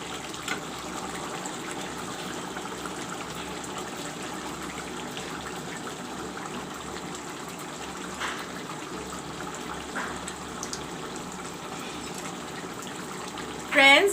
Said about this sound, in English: I have added the tamarind water